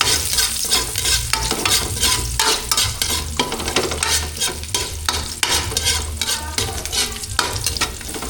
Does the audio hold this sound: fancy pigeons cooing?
no